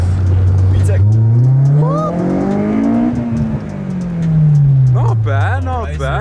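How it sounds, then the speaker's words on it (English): A bagged Honda S2000 at a large car meet revs hard, its engine note climbing sharply as VTEC engages and then falling away, loud and close, with people talking over it. "I heard the VTEC kick"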